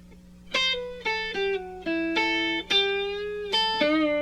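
An electric guitar plays a rock riff, a short run of clean, bright picked notes with bends and pull-offs in an uneven rhythm over a low steady hum, with no talking.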